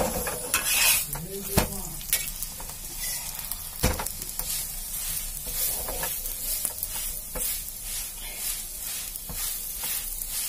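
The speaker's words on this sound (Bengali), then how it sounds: "এটা আমি সর্ষের তেল দিয়ে ভাজছি।" A radish-stuffed paratha sizzles steadily in mustard oil on a hot tawa, with a continuous frying hiss broken by the scrape and clatter of a spatula turning and pressing the bread.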